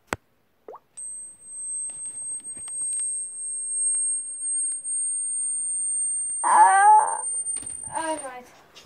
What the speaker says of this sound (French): Essayez de résister à ce bip.